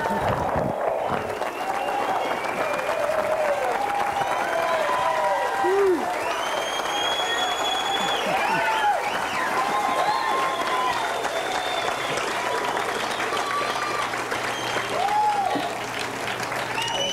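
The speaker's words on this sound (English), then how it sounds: "let's hear a warm round of applause for Rich Salick as we induct him into the East Coast Surfing Hall of Fame" A hall of fame induction crowd applauds warmly and steadily for a surfing inductee at the East Coast Surfing Hall of Fame, sustained clapping and cheering filling the room with a few scattered whoops.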